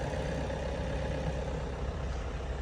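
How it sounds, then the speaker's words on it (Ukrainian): A 2021 Skoda Superb Scout 4x4 engine idles in a steady, even hum with no knocking, heard close and alone at moderate level with no talk. "Моторчик працює гарно, демпфер не стукає."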